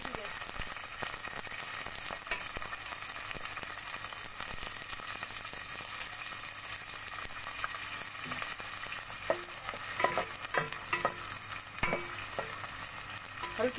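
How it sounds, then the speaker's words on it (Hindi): Small cut onions browning in hot cooking oil over low heat, a constant soft sizzle running throughout with occasional crackles and spoon clicks, close and alone without talk. "हल्की आंच में मैं प्याज को ब्राउन कर लूँगी।"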